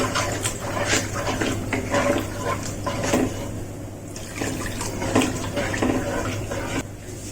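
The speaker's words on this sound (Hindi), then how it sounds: "इसमें पानी डाल देंगे।" Water pours and splashes into a pan of eggplant curry with a continuous gushing sound, broken by a few brief clatters.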